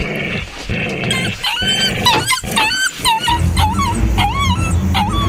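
A pet dog named Brownie, outside at night, growls, yips and whimpers agitatedly, with loud rising-and-falling barks and whines over a steady low background rumble.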